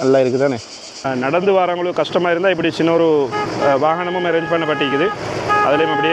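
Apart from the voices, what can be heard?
No distinct noise like a dog, phone or traffic.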